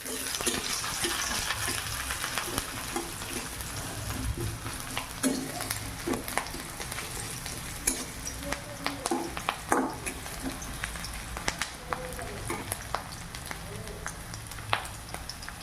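Ginger and chopped chilli sizzling in hot oil in a wok, a soft steady frying hiss with scraping stirs and occasional clicks, fairly faint and close.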